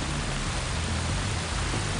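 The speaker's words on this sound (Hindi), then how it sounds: "झरने के शोर में आवाज सुनाई नहीं देती" A jungle waterfall in the Borneo rainforest roars as a steady, dense wash of rushing water, loud and unbroken throughout with no voices.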